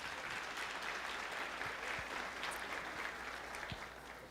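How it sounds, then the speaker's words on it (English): An audience claps steadily for singers at a Brahma Kumaris talk, the applause faint and distant, holding as an even, unbroken patter for about four seconds. "One big applause for them again, please."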